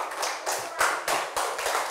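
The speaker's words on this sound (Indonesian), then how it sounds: "tepuk tangan untuk kelompok 2" Steady applause from a classroom group, dense overlapping claps that swell and dip in waves for the whole two seconds.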